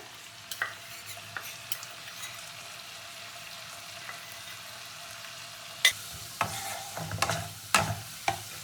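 Dragon chicken gravy in a pan with cornflour being added, a low simmering sizzle under sparse stirring clicks that grow into louder scraping strokes near the end.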